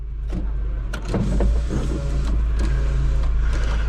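A Honda car that had lost power idles just after starting, a steady low engine rumble close by with a few brief mechanical clicks near the start and no speech.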